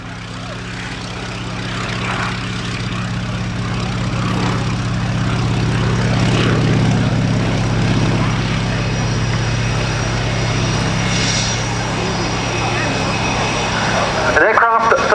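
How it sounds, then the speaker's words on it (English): A Fairy Swordfish biplane from the Royal Navy Historic Flight, carrying a dummy torpedo at the 2018 Yeovilton airshow, runs its engine at the start of its takeoff roll. A loud, steady piston drone continues throughout, with a voice faintly beneath it. "not least by the dummy torpedo carried underneath this aircraft, about to start its takeoff roll"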